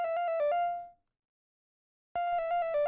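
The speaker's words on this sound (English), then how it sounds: "this is just really a triangle wave and putting a bit unison and driving it a bit" Electronic music synth lead built from a triangle wave with unison and light distortion, a bright, ringtone-like burst of quick plucked notes that fades, falls silent for about a second, then returns with the same figure.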